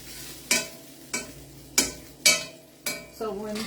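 A roux is stirred in a home-kitchen pan: a spoon scrapes and knocks against the pan five or six times in an even rhythm over a low background sizzle.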